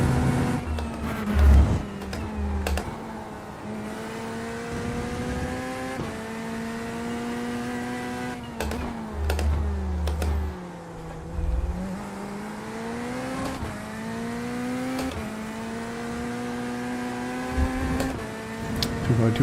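A race car in iRacing drones continuously with its engine note rising and falling through gear changes and corners, steady and close from the cockpit, with occasional brief thuds and clicks.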